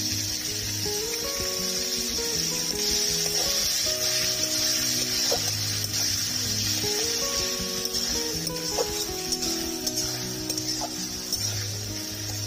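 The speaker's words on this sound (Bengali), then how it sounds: "দিয়ে দেবো এখানে আমি 2টো বড় সাইজের পেঁয়াজ কুচি করে" Two large chopped onions fry steadily in hot oil for a mutton curry, a continuous dense sizzle heard under background music throughout.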